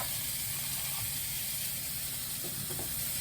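Spiced meat searing in a pot for BBQ pulled pork, a steady close hiss and sizzle with faint clatter, no talking.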